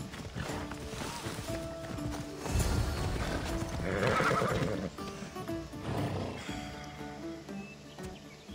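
Horses racing in Assassin's Creed Odyssey, close hoofbeats in a fast clip-clop with loud neighs and whinnies rising over game music; little talk.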